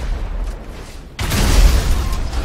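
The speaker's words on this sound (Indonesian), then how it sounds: "Eh, mobilnya sudah meledak guys." A car explodes in Grand Theft Auto 5 with a sudden loud boom that gives way to a sustained roaring, crackling blast, following a quieter stretch of ambient game noise.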